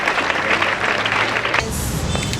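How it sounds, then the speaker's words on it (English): Audience applause at a Ghana museum event on light and light-based technologies, a dense wash of clapping that carries steadily, then shifts to a brighter, thinner texture near the end with faint voices. "Let us give them a round of applause again."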